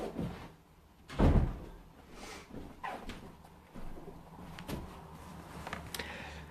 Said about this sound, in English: I'm gonna shut the door because the cat's just looking out.